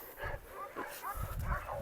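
A Cane Corso and a Boxer give a few short, gruff barks and yips in quick succession, close by, mixed with people talking over them.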